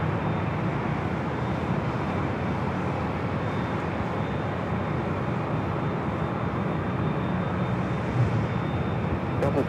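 Steady broadband roar of a United Boeing 787-9 Dreamliner at Los Angeles International Airport, continuous and fairly loud throughout with no clear rise or fall.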